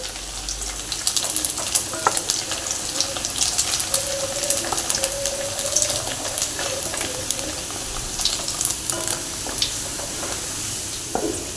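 Paneer cubes frying in hot oil give a steady, close sizzle with soft crackles and pops running throughout, no voices over it.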